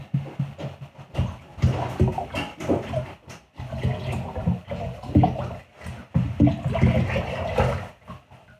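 Liquid pottery glaze sloshes and swirls around inside a textured wheel-thrown vase, then is poured out into a pot, giving irregular gurgling and splashing bursts at close range.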